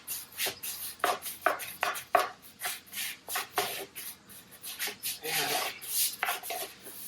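A brush scrubs dirty, brake-dust-coated Fox Body car wheels in short, rough back-and-forth strokes, close up and rhythmic, with brief pauses between bursts.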